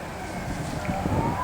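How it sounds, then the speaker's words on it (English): Sirens wail faintly in the distance during a mock crash drill in Belle Plaine, over a low rumble of traffic, a brief stretch of rising and falling tones. "You can hear the sirens now."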